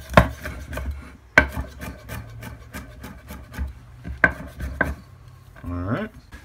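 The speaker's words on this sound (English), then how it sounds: "Trim your garlic, take off the root end" A knife chops garlic on a cutting board. Sharp, uneven wooden knocks come close up, with short scraping strokes between them and a brief rasp near the end.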